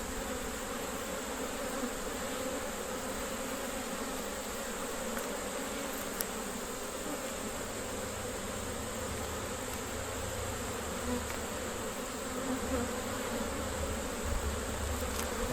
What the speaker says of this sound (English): There is an absolute ton of bees in here.